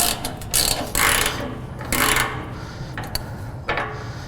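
Ratchet wrench loosening the back bolts on a John Deere Z5 zero-turn mower, with several bursts of quick mechanical clicking, close and fairly loud, separated by short pauses.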